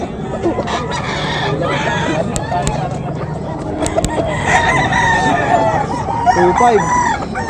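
Several roosters crow at a Friday market in Bocaue, some near and some farther off, over a busy background of chatter and clucking.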